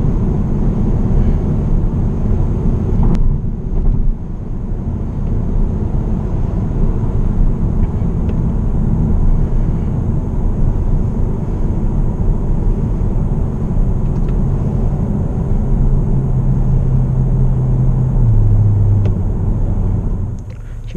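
A VW Arteon R-Line 2.0 TDI twin-turbo diesel accelerates hard, its engine rumbling steadily and loudly from inside the cabin, the drone rising in pitch toward the end of the pull.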